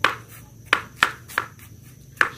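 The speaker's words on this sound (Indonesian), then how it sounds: "Kemudian ini kita potong kecil-kecil." Bamboo shoots chopped into small pieces with a blade on a cutting board, five sharp knocks at an irregular pace, close and distinct.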